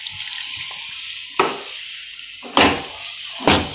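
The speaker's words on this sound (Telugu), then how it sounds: "ఇప్పుడైతే వాటర్ పోస్తాం అందులో" Water is poured into a pan of frying meal maker (soya chunk) masala curry. Three loud, splashy hissing bursts rise over a continuous background sizzle, each fading quickly.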